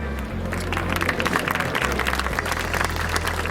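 Audience applause at the Miss Città Murata 2016 pageant final in Castelfranco Veneto, with a crowd clapping steadily for the jury members over a low background hum.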